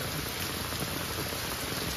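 Steady, dense rain pattering on a surface beside a flooded river, continuous and fairly close, with no voices.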